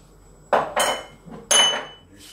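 A utensil stirring squid with basil in a pan for a Provençal dish gives three or four sharp metallic clanks and scrapes against the pan, close and distinct, with quiet gaps between them and no voices.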